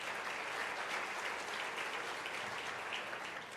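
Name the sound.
audience applause at U.S. Africa Leaders Summit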